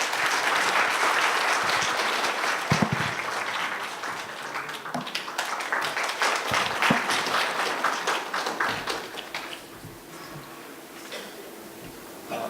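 Audience at an academic symposium gives a big round of applause to welcome a professor to the stage, steady dense clapping that gradually fades and thins.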